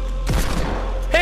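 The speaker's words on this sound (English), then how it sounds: "Hand cannon!" A hand cannon fires once in the video game Fortnite, a sharp heavy boom followed by a short rumbling tail, then a brief bright synthetic tone near the end.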